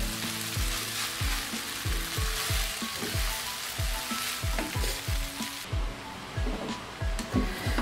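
Vermicelli upma is stirred in a pan, sounding as a continuous hiss of frying with a regular series of rhythmic scraping strokes from the spoon, about two per second, no voices.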